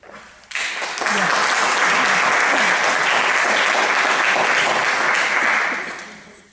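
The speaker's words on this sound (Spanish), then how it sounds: "vamos a darle un fuerte aplauso" A crowd bursts into loud, sustained applause after a brief voice, clapping steadily for several seconds before fading out.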